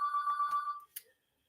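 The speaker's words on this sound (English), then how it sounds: "Because if it's not Jesus, I'm not answering the phone" A telephone rings once, a bright steady electronic bell tone that cuts off, followed by a short faint chirp, close and clear with no talk over it.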